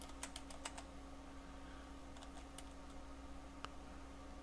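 Computer keyboard typed on in short bursts of quick, faint clicks over a steady low hum, with a lone keystroke after a pause.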